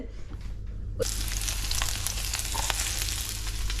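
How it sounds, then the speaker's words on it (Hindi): Parval, or pointed gourd, fries in ghee, a steady loud sizzle that jumps up sharply after a quiet opening second and then holds close and continuous. "परवल अब ये परवल को थोड़ा मैं फ्राई करूँगी"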